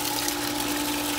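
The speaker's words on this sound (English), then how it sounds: "All right, we got the pump primed up." Shallow well pump running just after priming, a steady motor hum with rushing water, even and continuous, moderately quiet.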